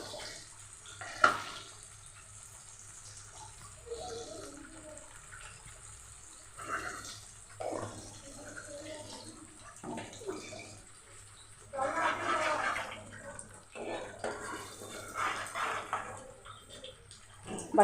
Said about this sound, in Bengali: বাটিটা ধুয়ে একটু জল দিয়ে দিই।